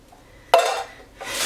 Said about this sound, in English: This is my pot for boiling water with